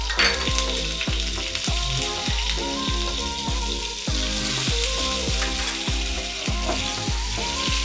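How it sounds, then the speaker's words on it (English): Oil and butter sizzling loudly in a pan, a dense crackling fry close up, steady throughout with a regular series of low knocks roughly twice a second from the cookware, no talking. "Now again I am adding a little bit oil. And the butter also."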